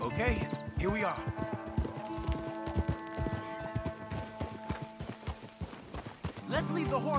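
Horse hooves clip-clopping with an occasional whinny in the video game Red Dead Redemption 2, mixed with music and people talking over them.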